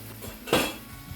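A metal spoon clanks once against a pan while boiled, softened vegetables for an Arabic dish are sautéed and stirred. The single clatter is close and short, with a quiet room around it.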